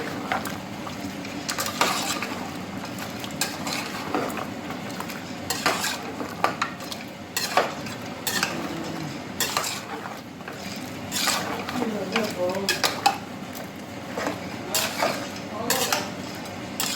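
A spoon stirs spiced beef bhuna in a metal pot, scraping and clinking in repeated strokes with a faint sizzle underneath, close and steady throughout.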